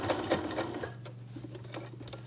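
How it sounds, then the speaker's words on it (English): Sewing machine stitching a fabric junk journal storage pouch, a quick rattling run of stitches that slows into a steady hum and soft ticks, close and quiet with no speech. "I'm just going to turn it and sew again."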